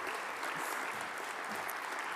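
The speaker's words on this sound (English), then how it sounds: "give him a round of applause because he's a super great guy." A crowd at a young chefs development committee event applauds, a steady, dense patter of clapping at moderate level lasting the whole brief moment.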